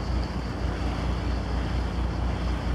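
A sailboat moving through the inner passageways of Kornati National Park in Croatia's Adriatic islands, with a steady wash of water and waves against the hull under constant wind buffeting the microphone.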